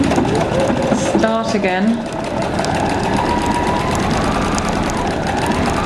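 A sewing machine stitching the final side of a fabric tote bag hums steadily and close throughout, with a person speaking briefly over it.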